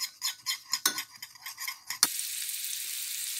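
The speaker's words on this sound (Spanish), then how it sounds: "Lo mezclamos todo en un bol. Lo removemos bien." A spoon or whisk stirs sweet paprika, pink Himalayan salt, black pepper and oil together in a bowl, making about a dozen quick rhythmic scraping strokes, followed by a sharp knock and a steady hiss.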